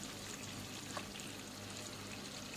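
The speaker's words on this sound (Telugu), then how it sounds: "మిగతా చేపలు కూడా ఫ్రై చేసుకుంటున్నాను" Fish fries crisply in hot oil, giving a faint, even crackling sizzle that holds steady for the whole stretch with no talk over it.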